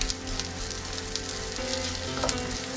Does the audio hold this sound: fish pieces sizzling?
yes